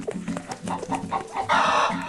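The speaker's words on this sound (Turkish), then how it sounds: "Yumurtacı tavuk." Hen clucking in the video game Scary Teacher Stone Age comes as a run of short, rhythmic clucks over a busy game soundscape, ending in a louder, drawn-out squawk.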